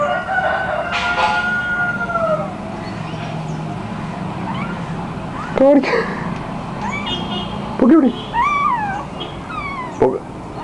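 A cat meows three times with pauses between, near and clear above a steady background hum, after a long drawn-out call early on.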